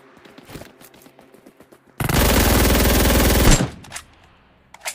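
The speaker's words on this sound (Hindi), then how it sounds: "यहाँ पर मुझे फिर से सामने वाले अपार्टमेंट से फायरिंग आती है।" A loud, sustained burst of automatic gunfire from an apartment in the video game BGMI rattles for about a second and a half, framed by quieter game sounds before and after.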